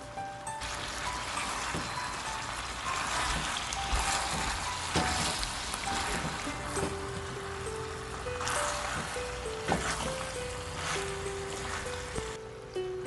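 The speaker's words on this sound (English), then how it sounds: "Cook on medium heat until cabbage is well done." Cabbage and pork stir-fry cooking in a pan over medium heat, giving a steady, dense sizzle with soft scraping and stirring clatter throughout, close and continuous.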